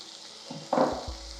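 Vermicelli (semiya) hits hot oil in a pan with a brief sizzle and a few stirring scrapes, the frying short and close.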